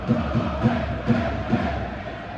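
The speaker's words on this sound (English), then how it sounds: "Hawthorns crowd showing their appreciation for Jason Malumbi as the ball is now with Mikey Johnston" A football crowd at The Hawthorns in a West Brom versus Leicester City match makes a loud, continuous roar with rhythmic pulses like chanting or clapping, heard from within the stands.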